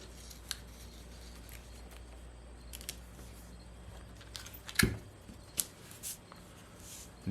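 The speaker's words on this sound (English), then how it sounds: "taping it all down" Adhesive tape torn and pressed flat onto a paper sewing pattern being altered for added fullness; quiet light rustling with one sharp close snap midway and a few softer ticks after, no voices.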